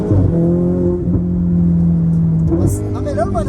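A Ferrari 488 Spider turbo engine pulls in fourth gear from low revs, a loud, close, continuous drone with a brief dip and surge, overlaid by faint talk near the end.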